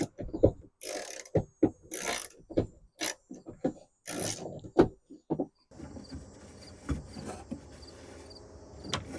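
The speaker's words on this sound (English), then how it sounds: "2 bolts that you can get to this by these access holes here with the 10mm socket and an extension" A 10mm socket on a ratchet with an extension loosens tailgate handle bolts on a 2015–2020 Ford F-150: quick bursts of ratcheting clicks, close and crisp, separated by short pauses, then fainter mechanical rattling.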